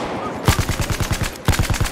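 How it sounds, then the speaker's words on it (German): Machine gun fire in the multiplayer game Battlefield 4: two rapid bursts of evenly spaced shots, loud and close, with a short pause between them and no talk. "Wo gehen meine Schüsse bitte hin?"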